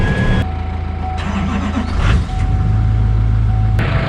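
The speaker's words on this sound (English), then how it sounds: "Truck is fired up." A pickup truck's engine idles steadily on a snowy cattle farm, a loud continuous low rumble close by with no talk.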